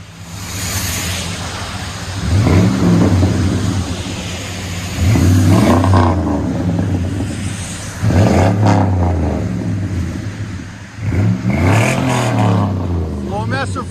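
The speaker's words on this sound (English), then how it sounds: "True duals with Flowmaster 40s." A 2001 Chevy Silverado with a 5.3L V8 and Flowmaster 40 true dual exhaust revs loudly in four repeated bursts, each rising and falling back to a deep idle, close by throughout.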